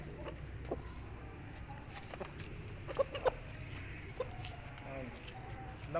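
An aseel rooster clucks in short, soft bursts at a farm, with scattered calls over a low background murmur and a couple of sharper notes midway.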